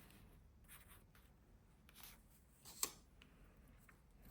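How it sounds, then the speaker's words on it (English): Soft pencil scratching and scribbling on paper, close and quiet, in intermittent strokes with a sharper tap near the end. "I love the sound of the pencil."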